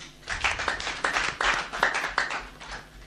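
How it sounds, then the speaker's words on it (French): An audience applauds prize winners at a Fo'arts awards ceremony for writing and photography, close and fairly loud clapping with uneven bursts of hand claps over about three seconds, no talking. "Merci de les applaudir."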